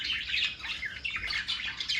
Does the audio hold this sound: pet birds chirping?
yes